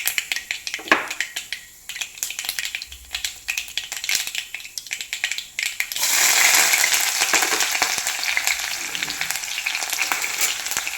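Ginger, garlic, curry leaves and green chillies sauté in hot oil, first as a lighter crackle with stirring scrapes, then a loud, steady sizzle once fresh ingredients hit the pan, close and without talk.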